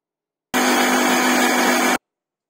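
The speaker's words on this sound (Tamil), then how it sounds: "இப்போ போய் திருப்பி பிளெண்ட் பண்ணிட்டு வந்துடலாம்." A kitchen blender whirring through milk and strawberries for a strawberry milkshake, a steady loud motor roar that starts and cuts off abruptly after about one and a half seconds, with no talking.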